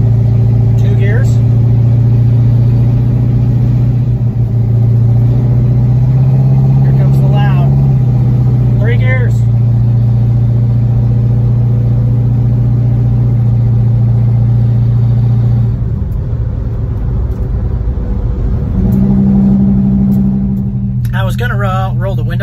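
A 1969 Dodge Coronet with a two-barrel 318 V8 droning as it accelerates from inside the car, engine pitch rising then dropping as the automatic shifts, with people talking over it.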